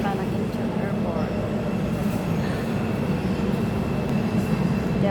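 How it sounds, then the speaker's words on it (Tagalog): Airport railroad train pulling into a station on the line to Incheon Airport, a steady loud rumble of wheels and carriage noise with faint high squeals, continuous throughout with no voices. "Yan, dito na ang tren."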